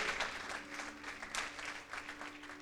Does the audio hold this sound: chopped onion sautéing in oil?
no